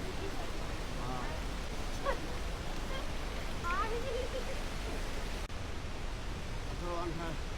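Steady, dense roar of a waterfall rushing at Sundarijal near the Mai temple fills the whole stretch without pause, while voices speak faintly over it.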